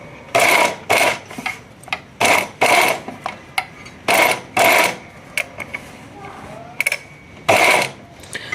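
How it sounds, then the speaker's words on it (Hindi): Sewing machine stitching along the edge of fabric and a paper strip, running in several short loud bursts separated by pauses, with faint handling clicks between runs. "इधर किनारे किनारे पे सिलाई हम लगाएंगे"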